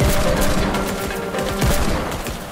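Dense, loud bursts of rapid gunfire rattle continuously in a Fortnite video game short film, a close fusillade of overlapping shots.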